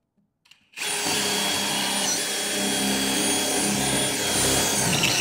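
A power drill bores into a wall for an electrical outlet, its motor running loud and continuous with a grinding whine from a dull bit, after a brief pause and a couple of small taps.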